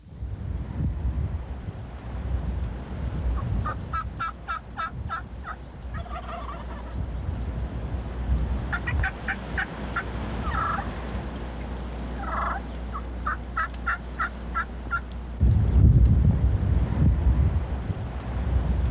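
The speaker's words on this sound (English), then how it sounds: "There they are, two good adult gobblers." Two adult wild turkeys gobble near a watering hole among oak brush. Several rattling gobble bursts come from a moderate distance over steady wind noise, with no talking.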